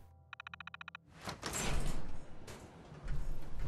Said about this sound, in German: ich habe eine Tür gehört